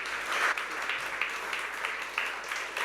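An audience at a talk on hedge value chains and conserving nature applauds with steady, moderately loud clapping that runs through the whole clip.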